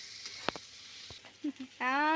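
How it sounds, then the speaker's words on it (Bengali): Ginger and garlic fry in oil with onion, giving a faint, steady sizzle with a few sharp utensil clicks. A voice cuts in briefly near the end. "আদা রসুনটা তেলেতে ভাজবো, মানে পেঁয়াজের সাথে"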